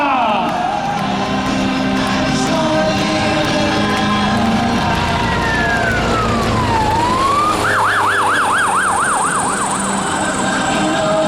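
A Coast Guard helicopter at the Jesolo Air Show sounds its siren, first a long falling and rising sweep, then a fast warbling wail, loud and continuous over a steady rotor and engine drone.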